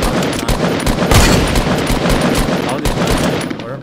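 Rapid automatic gunfire from a shooter video game rattles in dense close bursts with sharp individual cracks, loud and continuous over a few seconds.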